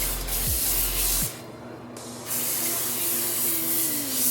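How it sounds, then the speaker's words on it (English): Two short bursts of aerosol cooking spray hiss close up onto foil-lined baking sheets, separated by a brief pause, over a low background hum. "And then I'm going to spray them with this cooking spray."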